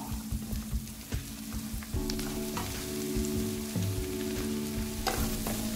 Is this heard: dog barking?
no